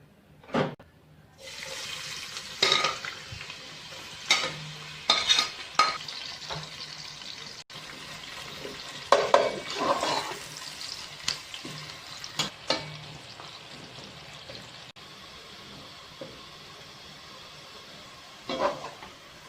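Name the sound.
frying finely chopped onions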